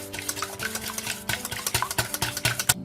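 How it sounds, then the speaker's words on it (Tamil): Five eggs are beaten in a bowl for a caramel pudding, with a quick rhythmic tapping and clinking of the utensil against the bowl, close and clear. "ஒரு பவுலில் போட்டு நல்லா பீட் பண்ணிக்கோங்க."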